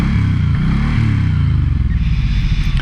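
A 2018 Suzuki Boulevard M109R B.O.S.S. motorcycle engine runs warmed up at close range, a loud, deep idle with a throbbing low pulse and a slight rise in revs midway, alone without talk.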